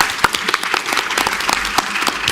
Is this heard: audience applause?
yes